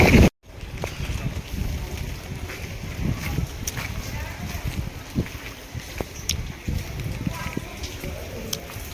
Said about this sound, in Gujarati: એટલો પવન જોરથી ચાલુ છે